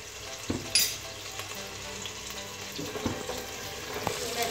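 Macaroni sauce with chili sauce and soy sauce stir-frying in a pan for chicken macaroni, a continuous hiss of frying with a few sharp utensil clinks and scraping stirs throughout.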